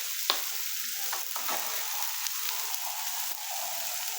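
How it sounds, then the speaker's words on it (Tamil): Dosa sizzling on a hot stone griddle for a Guntur karam dosa, a steady broadband fry hiss throughout with a few soft clicks and scrapes near the pan, no talking. "நம்மளோட தோசையை நல்லா கல்லில் சுட்டுண்டு"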